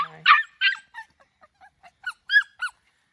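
Several short, high yelping barks from Schnoodle puppies, a quick burst at first then scattered yips spread over a few seconds, fairly close.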